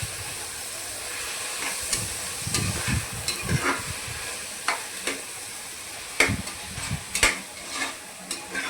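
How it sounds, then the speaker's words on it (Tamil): Three medium tomatoes sautéing in a pan for tomato rice, a soft steady sizzle and hiss broken by occasional spatula scrapes and taps against the pan, close and moderate. "தக்காளி நல்லா வதங்கணும்."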